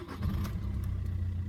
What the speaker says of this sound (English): let's restart the engine